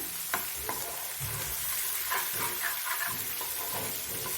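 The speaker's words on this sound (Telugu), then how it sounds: "చక్కగా వేయించుకుందాము" Small fish frying in oil for a raw mango curry, a steady close crackling sizzle with scattered sharper pops and stirring scrapes, no voices.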